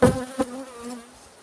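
A close, steady buzz of honey bees at a hive, cleaning leftover honey from extracted combs, with a brief louder surge early on, then a softer drone trailing off.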